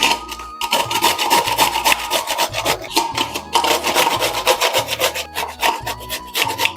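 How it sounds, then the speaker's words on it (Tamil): Raw mango is grated with the skin on for an instant pickle: a loud, brisk rasping scrape repeats in quick, even strokes throughout. "இப்போ இந்த மேலே இருக்கிறத மட்டும் கட் பண்ணிவிட்டு மாங்காய் நல்லா துருவிக்கலாம்."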